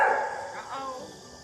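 A maned wolf gives a single drawn-out bark-like call, loud at first and tapering off over a second or so, a hoarse, wavering cry.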